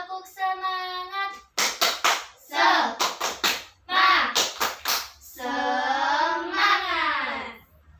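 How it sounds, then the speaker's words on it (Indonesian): A primary school class claps out a rhythmic spirit clap in short bursts, crisp patterned handclaps broken up by children's sung or chanted voices before and after. "Tepuk semangat dulu, biar semangat."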